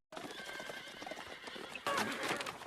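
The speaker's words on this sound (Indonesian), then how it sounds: "membuat kuda-kuda suku Mejai ngamuk dan kabur" Several horses in a film scene neigh and whinny in panic, hooves clattering as they bolt away, loud and close, with a sharper burst of commotion near the end.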